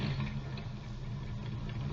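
A car engine starts and idles as a sound effect on a 1952 radio comedy show, a low steady mid-pitched hum with a muffled, band-limited tone.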